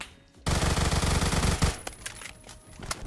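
A Kriss Vector fires in a fast, loud full-auto burst lasting about a second in the shooter game Phantom Forces, followed by scattered fainter shots and clicks.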